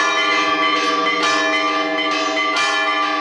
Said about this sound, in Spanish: Campanero tocando con pies y manos.